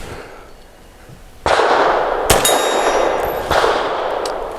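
A Tisas Bantam 9mm pistol fires until its slide locks back, loud sharp metallic reports cracking out close by over a steady background hiss.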